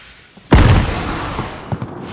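An enemy precision airstrike hits in Call of Duty: Warzone with one sudden, loud, close boom, followed by a rumbling decay and a few smaller thuds.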